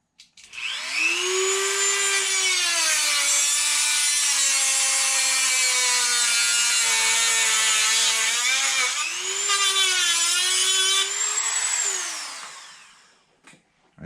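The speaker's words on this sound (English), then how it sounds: "And now I've got to cut off this little nub." Small saw cutting a plastic nub off an Arrma Limitless RC car, a continuous close, loud whining rasp with a steady harmonic tone held for about twelve seconds before tapering off.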